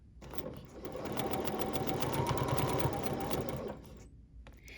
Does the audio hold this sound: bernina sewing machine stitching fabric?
yes